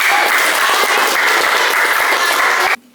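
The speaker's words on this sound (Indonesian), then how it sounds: "tepuk tangan semuanya ya" Classroom applause, a dense, loud burst of clapping from a group of students lasting nearly three seconds before cutting off sharply.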